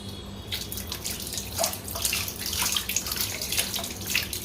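Water poured over a wet cloth, splashing and trickling steadily, close by, with wet dripping and pouring sounds and no talking.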